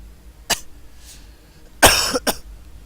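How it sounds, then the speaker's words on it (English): A person coughs out of nowhere with a suddenly dry throat: one short cough, then a heavier burst of two close coughs, all near and loud in a quiet room. "I just started coughing out of nowhere"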